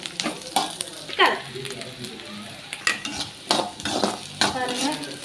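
Garlic stirred and sautéed in an old pan over low heat for a pickle, with a soft sizzle under repeated scraping and clinking of a spoon against the pan.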